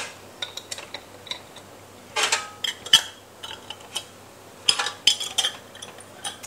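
Glass jars of freshly made sweet corn relish being fitted with lids, a run of light clinks and taps scattered across the moment, with a couple of busier clattering bursts, close and fairly quiet, no talking.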